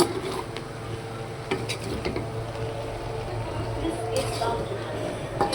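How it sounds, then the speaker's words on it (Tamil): Masala pasta is stirred in a pan on the stove, with soft scraping and scattered light clinks of a utensil against the metal under a steady kitchen hum. "மீடியமாக அளவு வச்சு நல்லா கிளறி விடணும்"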